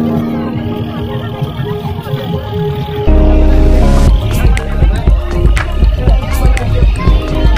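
A boat crosses a river on the way to the Bogamati picnic spot, with a loud, steady engine-like rumble and water noise throughout that grows heavier partway through, alongside busy clattering.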